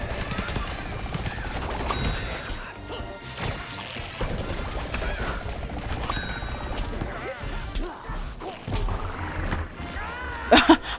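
Rapid video game gunfire from a plant-versus-zombie shooter fills the scene in dense, continuous bursts with crashes and impacts, a couple of sharper blasts near the end.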